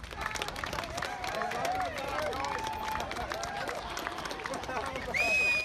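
A crowd gathers in Wanaka to welcome home a skier and a fellow bronze medallist, with busy chatter, scattered clapping and cheers under a continuous voice, ending in a brief whistle-like squeal.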